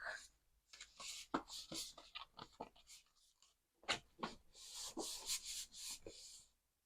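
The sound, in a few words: paper being folded for a flip book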